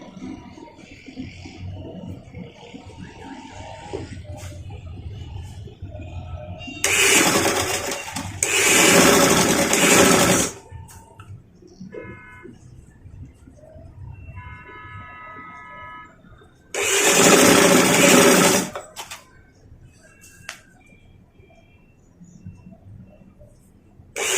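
A sewing machine stitches a frock in two loud, steady bursts of several seconds each, separated by quieter stretches of low room noise and handling sounds.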